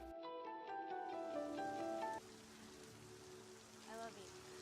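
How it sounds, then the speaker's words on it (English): Steady hiss of falling rain in a film scene, faint and continuous, with tonal music and a brief voice over it at the start. "Oh look, it's raining."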